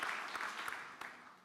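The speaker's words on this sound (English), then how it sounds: "A round of applause for them." Audience applause at a social forum on a peace-building process in San Sebastian, a short burst of clapping that starts loud and tapers off quickly.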